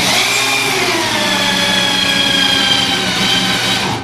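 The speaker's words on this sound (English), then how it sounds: "You want to drill it on a 90 degree angle" A power drill bores steadily into a log while building log Adirondack chairs, giving a loud, continuous motor whine that holds even for about four seconds before easing off at the end.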